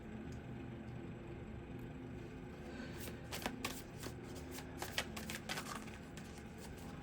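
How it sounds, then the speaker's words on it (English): Tarot cards are shuffled and pulled in quick, soft riffling bursts, close by, over a steady low hum of background noise, with no voices. "I'm going to keep pulling some more cards."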